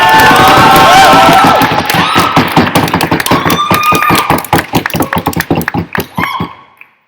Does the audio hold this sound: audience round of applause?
yes